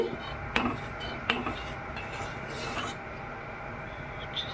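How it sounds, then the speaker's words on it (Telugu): A ladle scrapes and clinks around a pot of creamy vermicelli sago payasam, with two sharp metallic knocks early on and a continuous soft rasping stir beneath, close by and fairly quiet, with no talking. "ఒకసారి తిప్పుకుందాం గరిటె పెట్టి."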